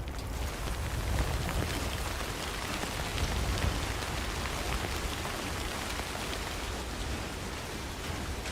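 Timefall rain in the game Death Stranding pours steadily, a dense, even hiss of drops on surfaces that fills the scene with no breaks and no talking.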